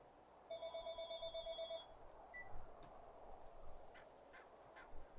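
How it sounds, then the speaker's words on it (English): A telephone rings once in a bright, electronic trilling burst lasting more than a second, fairly loud against a quiet background. A few faint clicks and noises follow. "on a second, I got a phone call."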